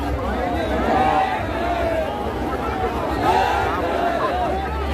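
A large crowd gathers at Ambedkar Buddha Vihar for the 132nd Ambedkar Jayanti anniversary, with steady outdoor babble and overlapping chatter filling the scene while a nearby voice speaks over it.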